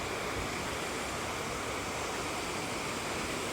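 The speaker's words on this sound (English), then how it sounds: "it's a canny little river" A small river in Scotland flows steadily, a continuous broadband rush heard close and fairly loud with no breaks.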